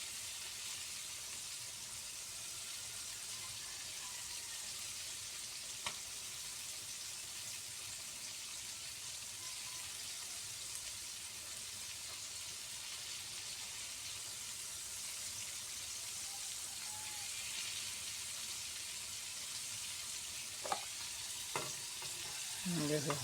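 Chicken fries in plenty of cooking oil in a home kitchen. A faint, steady sizzle runs through, with a few soft clinks and scrapes from stirring toward the end.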